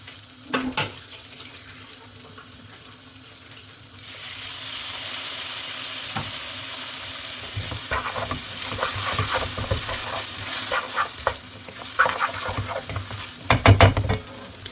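Pork belly tossed in a pan with sliced shallots starts sizzling sharply after a short quiet lead-in, then keeps up a steady close crackle with repeated spatula scrapes and clatters that grow busier toward the end.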